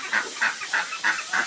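Ducks squawk in a rapid series of five loud, close calls at a steady rhythm, heard in a village while rice is being cooked, with no talk over them.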